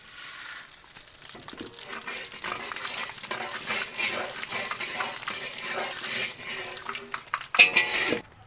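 Panch phoron spices hit hot oil in a pan for a festive khichuri, sizzling steadily while utensils clatter and scrape against the pan, with a sharper metallic clink near the end.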